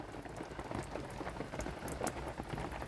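Light rain falls on an allotment garden, a soft, continuous patter of drops on surfaces, quiet and steady with no voices.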